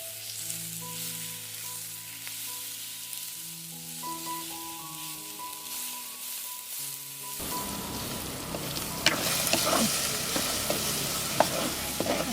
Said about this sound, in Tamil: நல்லா எண்ணெயிலேயே மிளகாத்தூளை கிளறி விட்டுட்டு